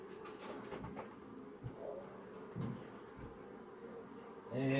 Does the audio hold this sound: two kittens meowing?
no